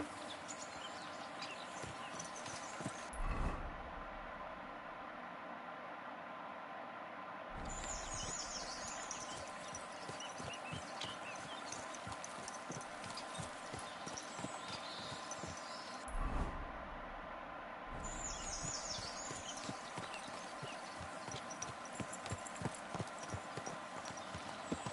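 Horse hooves from a video game, a steady rhythmic clip-clop that repeats at a trotting pace over a low rumble, with a couple of brief louder thumps and no speech.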